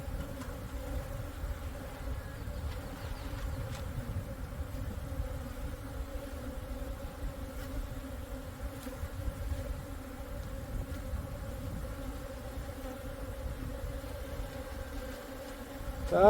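Native Korean honeybees buzzing at the hive, a steady low drone that holds evenly throughout, close and moderately quiet, with no talk over it.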